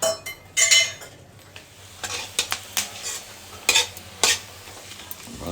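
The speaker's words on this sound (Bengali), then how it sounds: "আগে এখন চিপসটা ভাজি" Potato chips fry in hot oil in a home kitchen, a soft sizzle beneath a series of sharp, close clinks and scrapes from a utensil against the pan, irregular and without talk.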